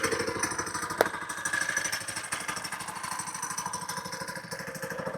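A Hurricane 200 Pro small engine runs steadily after starting, a close, rough mid-pitched putter with a fast regular pulse and one brief clank near the start.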